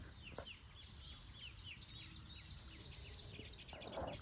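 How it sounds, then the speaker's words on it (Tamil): Sparrows in village fields chatter steadily, many quick high chirps overlapping at a moderate distance in a continuous lively chorus, with a brief lower call toward the end. "எவ்வளோ குருவிகள் சிட்டுக்குருவிகள் அவ்வளோ குருவி"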